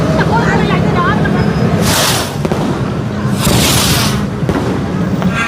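Fireworks burst at a Hindu temple festival for Lord Shiva at Chunnakam, with two broad explosive booms a couple of seconds apart over a dense, continuous crowd and festival din, with people talking throughout.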